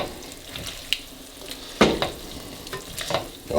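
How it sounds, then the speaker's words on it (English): Spinach pasta is gently stirred in a pan on a stovetop: soft scraping and wet swishes, with a few louder clunks of the utensil against the pan and a faint sizzle beneath. "I'm going to stir that in gently so I don't slop it all over my stove."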